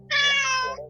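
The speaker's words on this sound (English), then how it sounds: "I don't know what's gotten into that cat." A house cat lets out one loud, drawn-out meow close by, rising and holding for most of a second before trailing off, with a low hum underneath.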